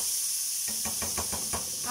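Butter hitting hot olive oil in a pan gives a steady hissing sizzle, joined partway through by a run of soft rhythmic pulses, with no talking.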